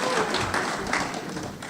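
An audience at a Class of 2022 graduation applauds the seniors, a dense wash of clapping heard fairly close and steady throughout, with a little voice murmuring mixed in.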